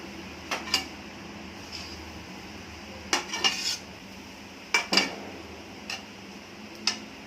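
A spoon scrapes and knocks against a pan while stirring modak jaggery filling over the heat, giving sparse, irregular clinks and taps against a faint background.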